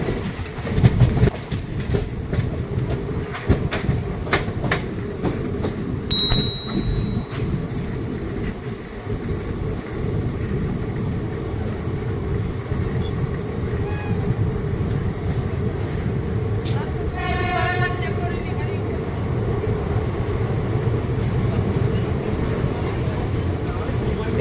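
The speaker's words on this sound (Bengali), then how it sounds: "আমাদের ট্রেন রামপুরহাট স্টেশন এন্টার করছে" Gour Express train rolling into Rampurhat station, a steady loud rumble of wheels on rails with rhythmic clatter throughout, a brief high horn-like tone early on and a squealing brake screech around the middle.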